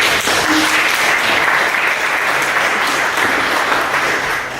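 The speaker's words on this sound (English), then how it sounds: "give it a round of applause" An audience at a technology conference talk claps loudly and continuously for several seconds. The sound is dense and close, and it fades slightly at the end.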